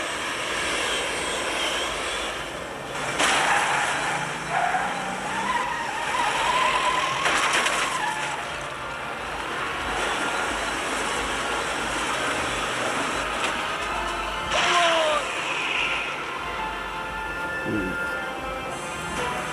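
A DeLorean car engine roars steadily as it accelerates, a dense, loud mechanical drone that swells and surges for nearly twenty seconds, with faint voices briefly underneath.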